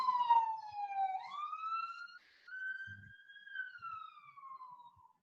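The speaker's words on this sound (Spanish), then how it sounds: "Deje que pase la ambulancia." An ambulance siren passing on a main street wails, sweeping down and up in long slow glides, fairly clear and moderately distant, with faint background noise.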